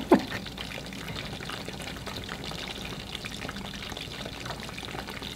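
Tikka masala ingredients tipped into a warm pan to simmer, a brief clatter at the start followed by a continuous soft bubbling and sizzling hiss, close and alone.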